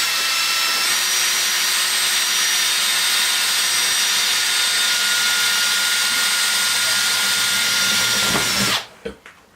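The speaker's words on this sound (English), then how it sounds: "steel's nice and thin, it's easy to drill" A power drill bores through thin round steel pipe on a Maverick X3, running as one steady, loud, continuous whine for about nine seconds before cutting off abruptly.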